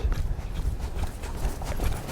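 A roan horse walking in circles, its hooves thudding and clopping steadily on the ground at close range, with a low rumble underneath.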